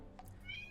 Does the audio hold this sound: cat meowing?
yes